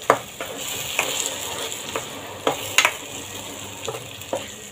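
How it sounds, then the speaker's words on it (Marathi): Masala with tomato puree and cashews cooking in a pan, a continuous sizzle broken by regular scraping strokes of a spoon stirring, no voices. "सतत मिश्रण हलवत राहायचं आहे"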